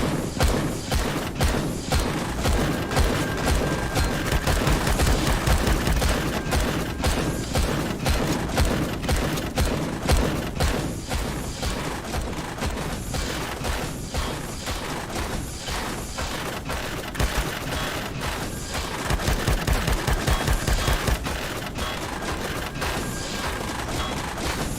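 Gunfire fills a co-op multiplayer session of the space survival game Empyrion - Galactic Survival, with dense, rapid, overlapping shots and thuds sustained loudly throughout, with no voices.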